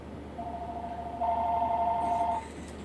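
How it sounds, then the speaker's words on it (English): A telephone gives an incoming-call tone, a steady electronic double note that starts alone and then thickens into a louder two-tone ring for about a second before cutting off, heard indoors without talk. "Another phone call."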